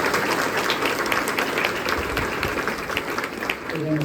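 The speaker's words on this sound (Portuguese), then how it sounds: "Uma salva de palmas para a palavra de Deus." A church congregation at a sermon in Brazil claps together in sustained, dense applause that holds evenly for the whole stretch, a full roomy wash of many hands, with a faint murmur of voices beneath.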